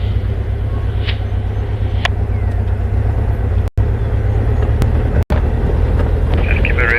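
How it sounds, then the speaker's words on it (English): A car engine hums on a live virtual safari drive, a loud, steady, close low drone with a couple of brief dropouts and faint scattered clicks. "Can you hear my car here?"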